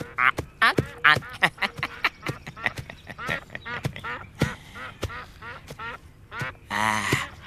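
Whistling ducks quack repeatedly in a busy, irregular series of loud, nasal calls, some overlapping, close by with no speech.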